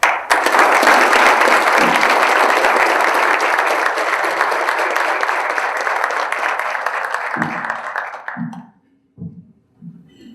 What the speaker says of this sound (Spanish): Para quien pido un fuerte aplauso y cedo el uso de la palabra.